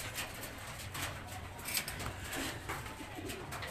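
A racing pigeon of the Tacloban Day Bird line coos softly in repeated low murmurs over a busy background of faint rustling and small knocks.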